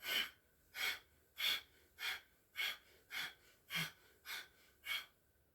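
Forceful diaphragm breathing during yoga, nine sharp rhythmic exhales at an even pace of roughly one every half second, close and alone with no talking.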